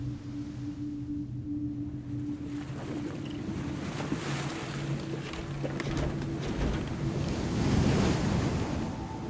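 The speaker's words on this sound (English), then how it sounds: "The waves are picking up." Ocean waves washing around a small fishing boat out at sea, a steady rushing surf with wind buffeting the microphone and a low engine hum underneath, the swell growing louder toward the end.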